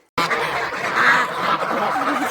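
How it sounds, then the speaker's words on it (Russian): Loud, dense chorus of ducks quacking and geese honking together, a continuous noisy flock close by with no talking. "Теперь надо выпустить гусей, уток покормить."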